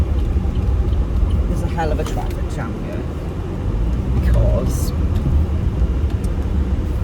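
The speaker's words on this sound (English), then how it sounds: "There's a hell of a traffic jam here." Low, steady rumble of road traffic crawling in a jam where two lanes narrow to one, heard from inside a vehicle, with a brief spoken word partway through.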